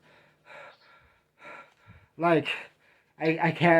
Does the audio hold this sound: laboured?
yes